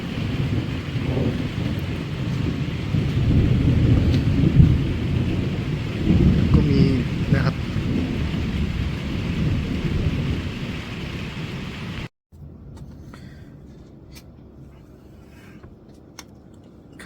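Deep thunder rumbles loudly over heavy rain at night for about twelve seconds, then cuts to a quieter stretch of steady rainfall.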